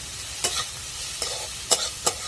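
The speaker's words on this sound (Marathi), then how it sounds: "आपल्याला दोन मिनिटं चांगली परतून घ्यायची" Ambadi (sorrel) leaf bhaji is stirred and sautéed with masala in a pan. Four distinct scraping stir strokes sound close by over a soft steady sizzle, with no voices.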